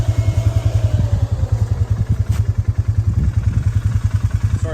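A 450 dirt bike fitted with an EPI clutch kit runs close and loud, its engine putting out a fast, even pulsing chug with a rising whine behind it for the whole few seconds.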